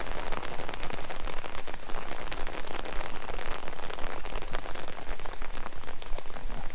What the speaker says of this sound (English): Rain came a bit sooner than I thought.